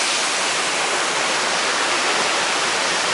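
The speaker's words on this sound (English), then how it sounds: "That's the waterfall." A waterfall beside a hiking trail roars in a steady, dense wash of broadband rushing water, loud and close, with no breaks and no voices.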